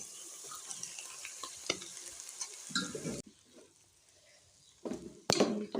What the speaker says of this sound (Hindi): अब इसमें मैं डालूँगी वो नूडल्स जो मैंने उबाली थी।